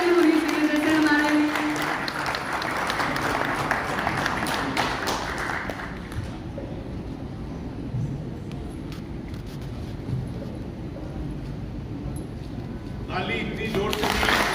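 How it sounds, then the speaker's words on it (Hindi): Audience applause at a radio station award ceremony: a broad, loud clapping wash fills the clip from start to finish, close and sustained, swelling slightly at the start and the end, with voices mixed into the crowd noise. "Let's have a huge round of applause for her."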